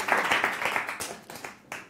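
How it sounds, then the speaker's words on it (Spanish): Audience applause at a music production session, a close, lively burst of clapping that thins into a few scattered final claps. "Vamos a darle un fuerte aplauso."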